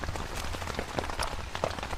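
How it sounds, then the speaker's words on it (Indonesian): Rain falls on a tent while camping, a close, dense patter of individual drops striking the fabric in an irregular, steady rhythm with no talking. "Hujannya kedengaran nih kayaknya."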